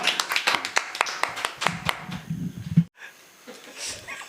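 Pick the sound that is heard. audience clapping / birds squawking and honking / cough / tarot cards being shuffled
audience clapping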